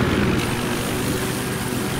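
Enemy helicopter in the video game Battlefield 4, a steady, loud rotor and engine drone that fills the clip without a break.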